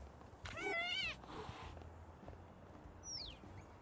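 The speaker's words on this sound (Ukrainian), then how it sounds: "Кіт!" A cat meows once, short and rising, in the video game Little Kitty, Big City, followed by a faint chirp over quiet background ambience.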